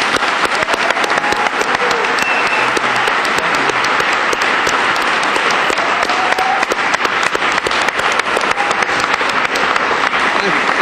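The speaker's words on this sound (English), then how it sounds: "Yeah, let's give them a quick round of applause." Audience applauding the candidates at the close of a debate, loud, sustained and evenly dense clapping from a large crowd that continues without a break for about eleven seconds.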